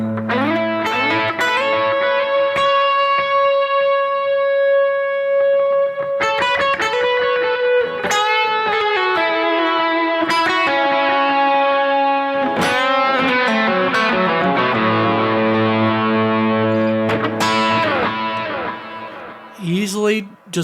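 Electric guitar playing a full-blown worship lead tone with reverb and delay, sustained singing notes and chords ringing out loud and continuous, with washy repeats trailing behind the phrases.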